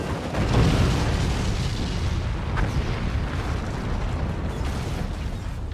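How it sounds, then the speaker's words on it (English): Rockets and mortars exploding in the physics-based RTS game Forts, a continuous dense roar of overlapping blasts and booms that stays loud throughout without letup. "rockets supported by mortars is going to be more than enough to end this game"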